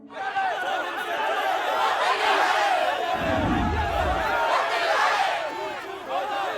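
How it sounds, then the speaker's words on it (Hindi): A growing crowd's chatter, many voices murmuring, laughing and calling out at once in a busy tense gathering, loud and continuous with a deeper rumble swelling briefly in the middle. "सर, भीड़ बढ़ती जा रही है"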